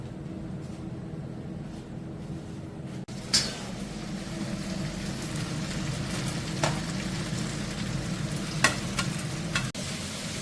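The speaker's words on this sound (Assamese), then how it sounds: "বনাইছে মায়ে হাঁহৰ গোটা ভাজি" Duck meat frying in a wok, a steady close sizzle running throughout with a few brief clatters of utensils.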